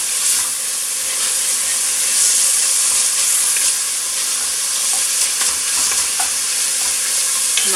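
Stuffed mushrooms frying in a pan give a steady, loud sizzle with a hissing top end, broken by faint stirring clicks and scrapes throughout.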